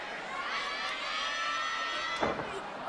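A packed crowd at Korakuen Hall roars steadily through a late stage of a women's professional wrestling match, a dense sustained wall of cheering and shouting with a few louder bursts near the end.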